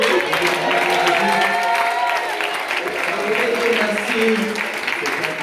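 A church congregation applauds and cheers for Jesus during a birthday celebration, with sustained clapping and crowd voices running steadily throughout, mid-distance and fairly loud, under a sung or spoken voice.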